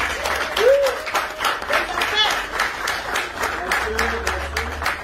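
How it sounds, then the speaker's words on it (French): Guests at a wedding applaud the bride's parents with scattered, moderately loud clapping, while voices and cheers are heard underneath. "Applaudissez pour les parents."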